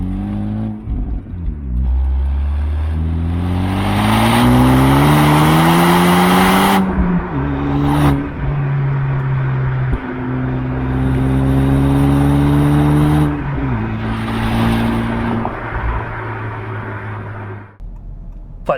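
A 2024 Honda Civic Type R FL5 engine and exhaust, loud and close, rising through the revs in long pulls with brief dips at gear changes, the tone climbing and dropping again across the run.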